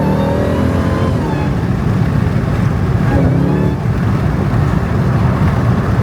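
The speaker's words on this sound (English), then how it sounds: "Definitely can hear that whine that it's already got an air intake on here" A Jeep Trackhawk fitted with an aftermarket air intake revs steadily and loudly up close, a constant engine roar with a faint whine riding over it, with no pauses.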